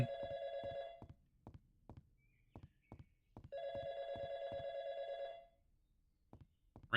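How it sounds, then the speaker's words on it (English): Electronic telephone bell ringing in the video game YIIK, two long trilling bursts separated by a pause, with soft footsteps tapping throughout. "Phone."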